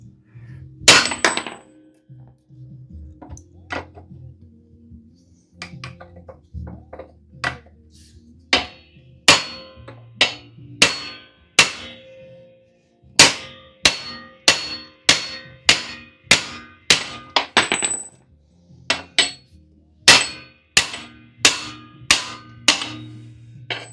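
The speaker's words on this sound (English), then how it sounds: "that's a subframe bushing extraction" Metal hammer blows drive a subframe bushing out of a Peugeot 206 race car: sharp, ringing clangs come in irregular bursts, sparse at first and then quicker and louder, close and alone with no talk.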